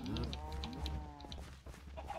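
Low Minecraft cow moos sound at moderate distance over a steady background hum, with a few short, higher-pitched blips and clicks mixed in.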